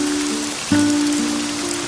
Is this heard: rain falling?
yes